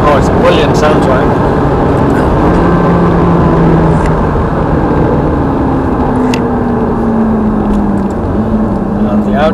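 Ferrari F430 engine on track at Thruxton Circuit, a steady loud drone with rising and falling pitch as it laps continuously, with people talking over it.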